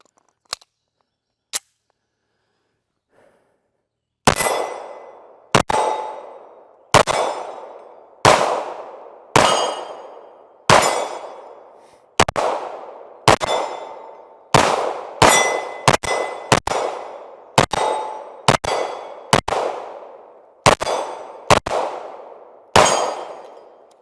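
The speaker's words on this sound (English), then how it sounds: "now we're going to shoot the Canik TP9 SFX" Canik TP9 SFX handgun firing at steel targets, a couple of isolated early shots then a steady string of loud, sharp reports, each followed by a ringing metallic clang, some in quick doubles.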